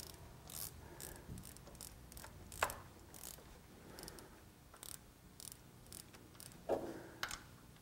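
Ratchet wrench snugging bolts on a Honda Civic 8th-generation VTEC solenoid, quiet clicking pawl bursts in short repeated strokes close by, with faint shop background.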